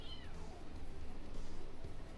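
Young cats wrestling let out a single drawn-out meow near the start, then a low, indistinct indoor background follows with no further clear calls.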